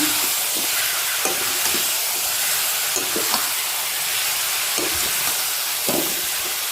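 Marinated jackfruit pieces are mixed into biryani masala in a hot pan, a steady loud sizzle and hiss with periodic soft scraping stirs, close up and without talk.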